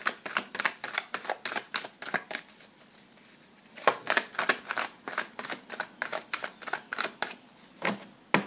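Oracle cards being shuffled by hand in quick, crisp bursts of riffling and flicking, repeated steadily and close up with short pauses between runs and no voices.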